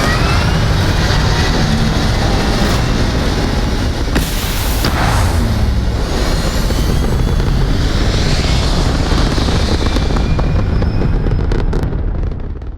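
Spaceship thrusters firing in the video game Starfield, a dense, steady roar with rumbling low end and hissing wash held at constant loudness for the whole stretch, no talk over it.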